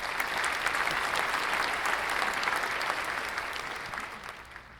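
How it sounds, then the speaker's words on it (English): A steady wash of many hands clapping at a college graduation ceremony, honouring the program finalists, fairly even and slowly tapering toward the end, with no talking. "Please give, once again, a virtual round of applause to all of the finalists."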